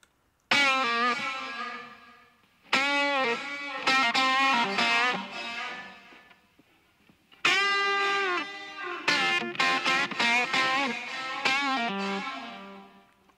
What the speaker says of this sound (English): the reverb of the delay rather than the main original sound